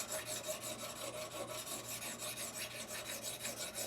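A serrated knife rasps back and forth across a 1200 grit sharpening stone in steady, close strokes, a continuous gritty scraping with a regular rhythm and no voices.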